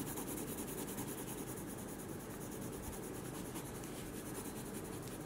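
A colored pencil shades a drawing, coloring a knee over beige, giving a faint, steady, close scratchy rubbing that continues without pause.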